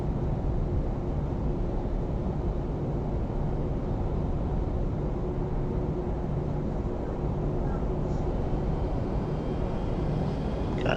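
A Boeing 737 taxis to the runway in the Prepar3D flight simulator, a steady, unbroken engine roar and hiss at constant loudness throughout, with no talk.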